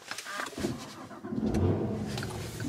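A supercharged 6.2 V8 in a Cadillac CT5-V Blackwing cranks and catches, bursting into a loud, close rumble that settles into a deep idle over a couple of seconds.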